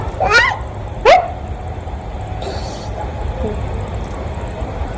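Two short, sharp dog barks at puppies ring out close together over a steady low rumble, then only the background hum continues.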